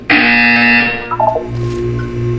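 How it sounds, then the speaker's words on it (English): A loud, harsh electronic buzzer in Portal 2 blares for about a second, followed by a few short descending tones and a lingering hum. "You will hear a buzzer. When you hear the buzzer, look up at the ceiling."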